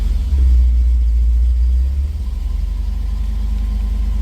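An old car engine with clutch engaged and wheels turning, running steadily with a loud low rumble that drops slightly in pitch and intensity about halfway through, no voices over it.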